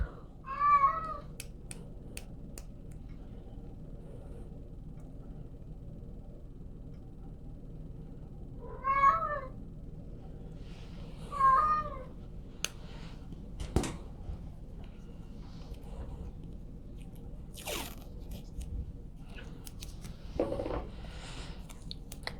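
A cat meows several times during preparation of feline injections in a veterinary setting, short distinct calls spread apart over quiet background with faint clicks and handling noises.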